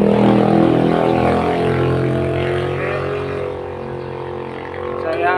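Yamaha Jupiter motorcycle engine running steadily and loudly, a dense continuous hum with rich harmonics, close to the machine and heard alone without talk.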